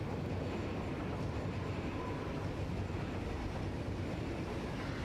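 A train riding on rails in the video game Satisfactory gives a continuous, dense rumble with rattling undertones, steady and fairly loud throughout with no speech.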